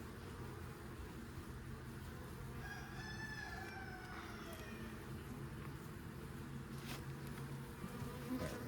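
A dense, continuous buzzing of many honeybees at an open hive fills the air, steady and close, with a rooster crowing faintly in the distance.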